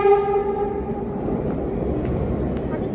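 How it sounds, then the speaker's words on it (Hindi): A Delhi Metro train rolls along with a steady, loud interior rumble, opening with a brief tonal horn-like whine that fades into continuous rail noise. "हम मेट्रो में दोनों लोग चढ़ चुके हैं"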